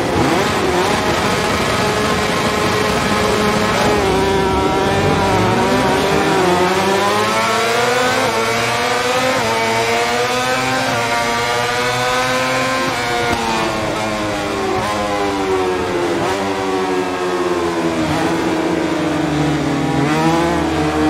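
Motorcycle engines in the MotoGP 22 video game rev loudly together on the Sepang grid before a race start, a continuous roar with rising and falling pitch sweeps, close and without talk.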